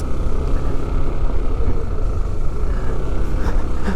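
A motorcycle grinds along a slippery, wet, rutted bypass road between Paete, Laguna and Mauban, Quezon, its engine and tires giving a continuous loud, rumbling roar close to the rider with no pauses.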